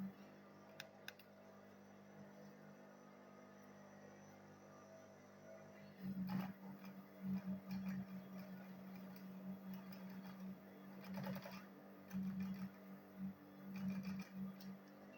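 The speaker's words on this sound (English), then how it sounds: "So let me go ahead and sew it straight." A sewing machine stitches a purse seam in quiet indoor surroundings, its steady mechanical chatter starting about halfway through and running in several short bursts with pauses between.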